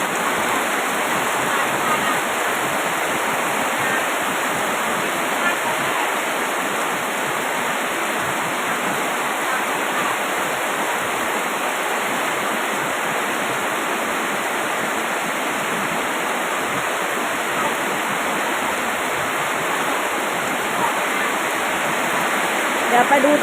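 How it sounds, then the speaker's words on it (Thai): Heavy rain pours in a dense, steady roar that never lets up, loud and close throughout. "เสียงฝนนะคะ"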